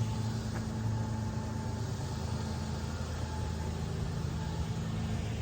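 A 20-year-old 5-speed pickup truck idles with a low, steady engine rumble that holds unchanged throughout, heard up close.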